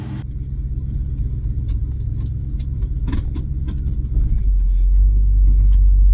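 Classic car with an automatic transmission running, a loud, steady low engine rumble close by, with a few light metallic clicks and jingles over it and the drone growing heavier toward the end.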